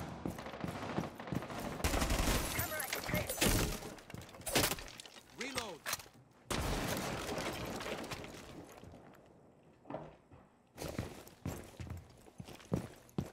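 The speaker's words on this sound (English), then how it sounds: "Shoot these glass pieces on the windows so you can hear people up there." In Rainbow Six Siege, bursts of rapid gunfire shatter window glass, giving loud volleys of shots with crashing, tinkling breakage, followed by quieter gaps and a further burst of shots.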